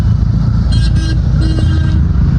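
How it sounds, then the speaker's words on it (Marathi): A car drives through heavy rain near Baramati, loud engine and road roar blending with a dense wash of rainfall, a short horn toot cutting in partway through. "चला आता नीट गाडी चालूया"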